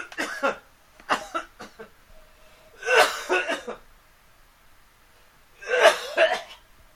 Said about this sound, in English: I still have that nagging cough, and every once in a while it gets heavy duty